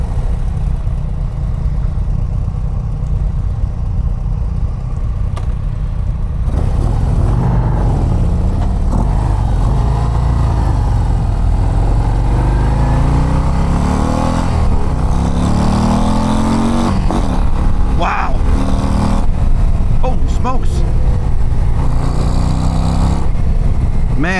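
A 2024 Harley-Davidson CVO ST with the 121 engine and a stage 2 setup rumbles loudly and continuously during a ride, its note rising and falling with throttle changes and shifts amid steady road and wind noise.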